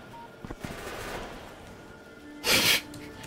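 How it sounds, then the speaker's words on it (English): In the factory-building game Factorio, a faint, sparse patter of automated turret fire is followed by one louder, short rattling burst of gunfire standing out from quiet background hum. "Random gunfire."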